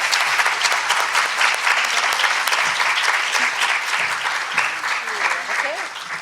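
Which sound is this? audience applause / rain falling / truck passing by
audience applause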